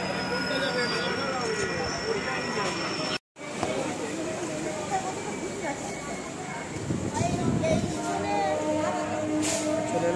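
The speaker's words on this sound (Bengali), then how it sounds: "সে ট্রেন এখনও ছাড়েনি, ওই কারণে হয়তো এবার ছাড়ছে" A local train pulling out of a station, its rumble and wheel noise steady and fairly loud with brief squeals, while people talk nearby throughout.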